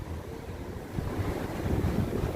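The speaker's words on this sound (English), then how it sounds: "A little windy in this spot, maybe." Wind blows outdoors on a city street, a steady low rumbling buffet against the microphone that grows slightly stronger toward the end, with no voices.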